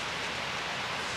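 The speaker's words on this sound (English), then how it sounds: "Everybody's noticing it's kind of raining." Rain falls outdoors at a family reunion gathering, a steady, dense hiss of drops with no break, fairly loud and close, with no voices over it.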